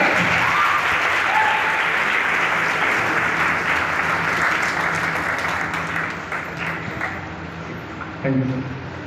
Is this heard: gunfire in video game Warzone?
no